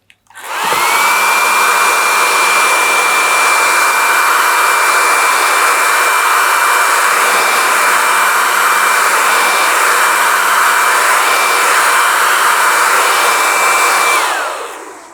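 A hair dryer runs continuously at close range to dry a watercolour painting, a loud steady whooshing roar with a constant high whine that starts abruptly and cuts off after about fourteen seconds.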